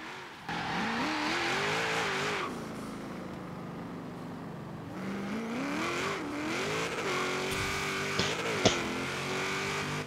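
Chevrolet Camaro engine in the Forza racing game, revving and shifting through gears with rising and falling pitch, held steady under continuous acceleration, with a couple of brief knocks near the end.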